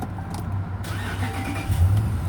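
A 2016 RAM Sport 1500 4x4 pickup engine cranking and firing up, close by, settling into a steady idle rumble with a brief rising rev near the end.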